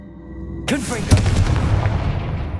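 In Hogwarts Legacy, a Confringo blasting spell bursts with a sudden sharp boom followed by crackling, rumbling fire, loud and close after a quiet start.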